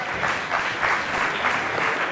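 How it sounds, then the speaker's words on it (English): A conference audience at a startup summit claps for a speaker in a short, steady burst of applause that fills the whole moment without any voices. "Big applause for Dave McClure."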